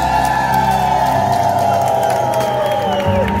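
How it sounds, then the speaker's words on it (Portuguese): A church audience claps and cheers loudly for a married couple, with whoops and shouts over a continuous roar of crowd noise and clapping, while a sustained organ or keyboard tone rings underneath. "Então eu quero ouvir uma forte salva de palmas para esse casal."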